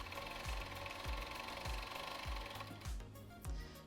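A sewing machine stitches through several layers of fabric for a child's anatomical briefs, giving a steady near mechanical run with regular thumping pulses about every 0.6 seconds, alone with no talk.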